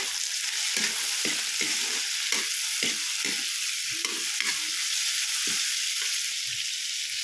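Long beans and okra stir-frying in a hot pan for Filipino pinakbet, a steady bright sizzle under repeated scraping and stirring strokes of a utensil, close and continuous with no talk.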